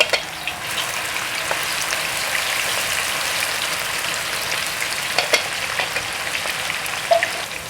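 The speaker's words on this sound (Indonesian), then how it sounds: "Ini saya tumis bumbu yang sisanya tadi ya, separuh lagi." Spice paste being sautéed in a pan for beef serundeng, a steady close frying sizzle with crackling spatters and occasional stirring scrapes, no talk.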